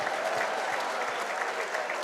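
Darts crowd at the WDF 2024 World Championship roaring and clapping after a 171 score, a continuous dense wash of cheering and applause throughout.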